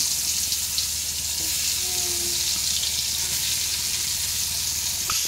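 Hot oil sizzles steadily as food fries in a small kadai wok. A close, continuous hiss with faint crackles lasts for several seconds, with no talking.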